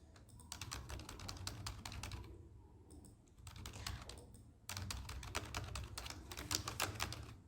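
Someone types code on a computer keyboard in quick bursts of close key clicks, broken by two short pauses and then picking up again.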